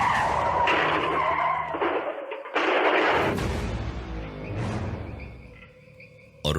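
A dramatic crash effect of a car slamming into a tree after its windscreen shatters: a loud, sustained skidding screech with crunching impacts, a brief gap, then more grinding noise fading out, with no voices.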